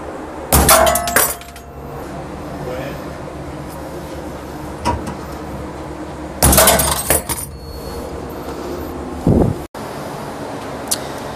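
A restaurant kitchen fire suppression system with clogged detection lines actuates after its test link is cut, giving loud, sharp, breaking-like bursts separated by steady background noise, with no talking.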